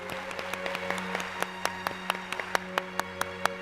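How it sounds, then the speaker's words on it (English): Applause at a YMCA Hall of Fame induction ceremony comes through as faint, sparse, distinct hand claps at a fairly steady pace over a low background hum. "Please join us in a round of applause for the induction of the men and women who served both the Y and the world in World War I."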